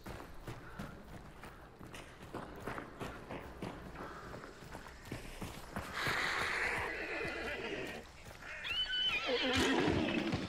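A horse in the game Hunt: Showdown whinnies loudly and repeatedly over clip-clopping hooves, the neighs growing stronger toward the end with no talk over them.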